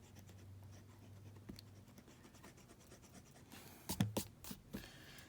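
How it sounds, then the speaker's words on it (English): Pencil eraser rubbing out a drawing on paper, a faint soft scratching at first, then a few louder, quick rubbing strokes near the end, close and alone. "let's erase this"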